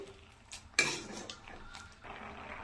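Spoon scraping and clinking against a pot while stirring dal seasoned with salt and a spoonful of sugar, a few brief knocks and scrapes at close range, with one sharper clatter early on.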